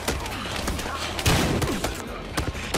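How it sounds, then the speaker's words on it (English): Gunfire in the video game Battlefield Hardline: rapid bursts of shots cracking out in quick succession, loud and close, with a player talking between them. "Who's shooting?"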